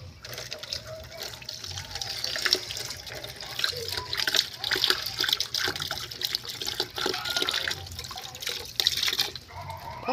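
Malabar spinach (alugbati) leaves being rinsed under running water in a sink, a steady close splashing and trickling with faint handling noises throughout.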